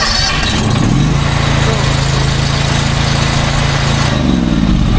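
Small engine on a pressure washer in a washing trailer setup, started on choke and running steadily at a constant loud hum throughout, close by.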